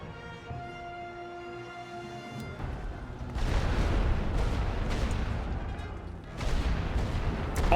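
Heavy artillery firing in a war video game, a deep rumbling roar of booms that swells after a quieter musical opening and stays loud and sustained, with another heavy surge near the end.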